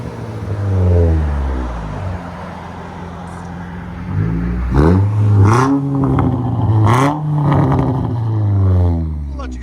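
A modified 2005 Nissan Sentra Spec-V engine revs up and down several times close by, with rising and falling harmonics and a few sharp pops, while people talk over it.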